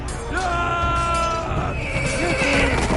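A horse in the Game of Thrones video game lets out a loud, close whinny with a rising-and-falling pitch, followed by snorting and shuffling, while voices speak over it.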